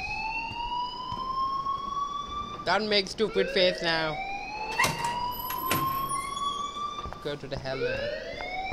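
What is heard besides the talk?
alarm ringing in the video game Life is Strange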